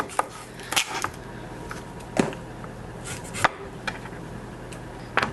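Knife chopping an onion into big chunks on a board, a handful of sharp, irregular cuts spaced over several seconds, close and fairly quiet against a soft room background.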